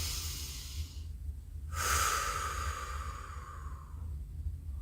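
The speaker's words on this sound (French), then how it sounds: "Inspirez par le nez et on expire par la bouche." One deep breath during a yoga session: a quiet stretch, then a strong airy exhale through the mouth that fades out slowly over steady low room noise.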